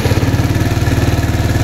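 A KYMCO Racing King 180 scooter engine runs at a steady idle after a coolant top-up, close and loud with an even, rapid pulsing thrum and no voices.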